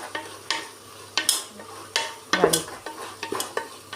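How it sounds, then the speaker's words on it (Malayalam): Onions with garlic and green chillies sauté in a pan while a spoon stirs them, giving repeated close scrapes and clinks over a soft, steady sizzle, with no voices. "നന്നായി മിക്സ് ചെയ്ത് ഉള്ളി വഴണ്ടി വരുന്നത് വരെ"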